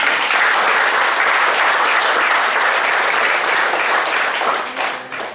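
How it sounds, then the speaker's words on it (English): Steady, dense audience applause in a hall at a rankers' meet program, loud and even for about five seconds before thinning slightly at the end. "Mehul Mehta with a round of applause."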